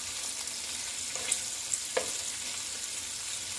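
Bacon fries in a pan as its fat renders off, a soft, steady crackling sizzle with a few sharper pops, quiet and close, with no talking.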